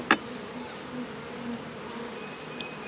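Honeybees hum steadily around an opened hive during a frame inspection, a soft continuous drone close by with a brief sharper buzz of a single bee passing near at the start.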